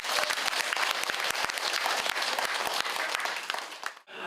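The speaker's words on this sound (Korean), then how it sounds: "큰 박수를 한번 쳐주기 바랍니다." A village gathering in Jeju breaks into vigorous applause honoring a community member, a dense, energetic clatter of many hands that stops abruptly near the end.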